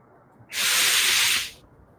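A spray can sprays paint onto a wall in a video game, a single loud, close hiss lasting about a second that starts and stops sharply.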